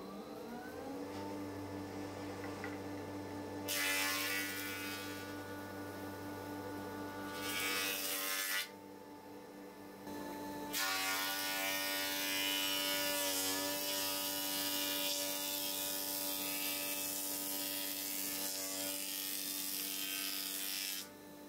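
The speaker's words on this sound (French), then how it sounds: "il faut que je passe la combinée en mode dégo" A combination planer-thicknesser in thicknessing mode hums with a steady motor tone while boards feed through in long, loud cutting passes, with short quieter gaps between passes.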